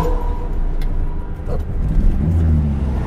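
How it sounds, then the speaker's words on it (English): A 1967 Ford Lotus Cortina Mk2 engine runs loud and close, a steady low rumble that rises slightly in pitch, with no talk over it. "this engine sounds way too good"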